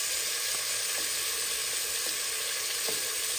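Onion frying in a pan for mutton jhol gives a loud, constant hiss and sizzle, close up, with a few faint stirring taps and no talking.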